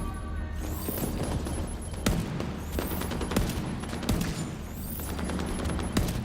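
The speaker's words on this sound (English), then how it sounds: "Shooting these grenades out of the air, it's a bit tougher" Rapid gunfire from The Division 2 in a fight against thrown grenades: dense continuous rattling bursts of shots, with sharper cracks at intervals over a steady, loud layer of battle noise.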